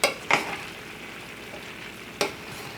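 Thawed cream of mushroom soup stirred in a frying pan for a gluten-free green bean casserole: a soft, steady low simmer broken by three brief utensil scrapes, close by, with no talking.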